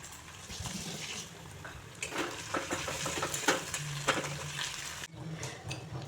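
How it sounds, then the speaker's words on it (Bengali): Spice paste sautéed in a pan for a Bengali Katla Kalia fish curry gives a steady close sizzle, with scraping stirs, a few utensil knocks and a brief dip near the end. "এটাকে একটু ভালো করে কষিয়ে নেব।"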